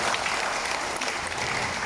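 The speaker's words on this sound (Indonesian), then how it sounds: "Jadi berikan tepukan." Dense, sustained applause from a large crowd at a UPKO youth wing assembly in a hall, loud and continuous without breaks.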